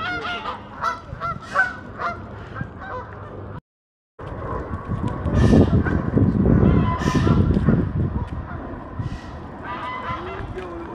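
Waterfowl honking by the Thames at Windsor, repeated nasal honks near and far with a person talking over them and a brief gap of silence partway through.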